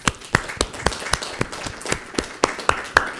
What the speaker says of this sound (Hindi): एक बार उन सब के लिए ताली